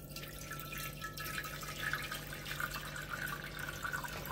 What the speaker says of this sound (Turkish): Şöyle kabıma şimdi kaynatılmış, soğutulmuş 1 litre su koyuyorum.